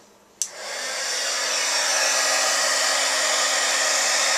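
An embossing heat gun melting clear embossing powder switches on with a click and then blows a loud, steady whooshing roar that continues without break to the end.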